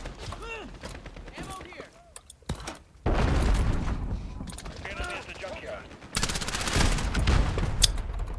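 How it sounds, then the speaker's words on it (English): Gunfire bursts and a booming grenade blast in Modern Warfare 2019, loud sustained fusillades coming in two heavy surges, with a person talking over the action. "Throw a grenade."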